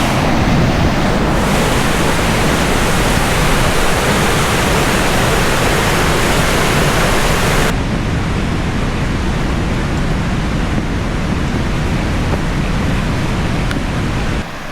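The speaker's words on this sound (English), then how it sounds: "which is the top of the big main waterfall there" Water rushes over the edge at the top of a large waterfall at Dangars Gorge. It makes a loud, steady, broadband roar up close, easing slightly partway through, with some wind buffeting. No voices are heard.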